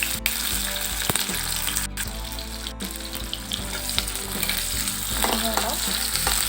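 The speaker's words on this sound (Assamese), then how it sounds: "কাটি লোৱা পিঁয়াজখিনি দি দিছোঁ।" Chopped onions frying in hot oil, a loud, close, continuous sizzle with crackles and scraping stirs of a spatula against the pan, no voices.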